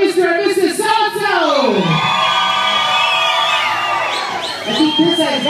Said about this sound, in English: Now, I need you guys to scream even louder.